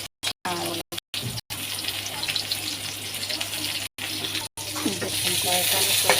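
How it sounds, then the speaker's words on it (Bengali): Mustard water is poured into a kadai, a gushing, splashing stream that starts and stops in short bursts, then flows more steadily and grows louder toward the end. "কড়াইতে আমি সরষে পানি দিয়ে দিলাম"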